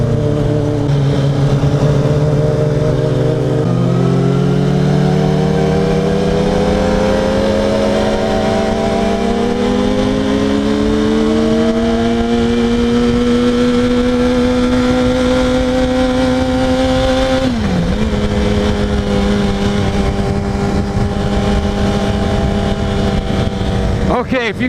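A Yamaha R1 sport motorcycle engine climbs steadily in pitch as it revs and accelerates, then drops briefly and holds a loud, continuous drone close by, with a voice under the engine noise.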